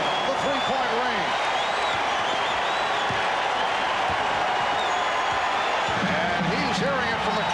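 Loud basketball arena crowd roaring and cheering after a three-pointer at a 1994 NBA Finals game between the Knicks and Rockets, a steady dense din throughout with a commentator talking over it.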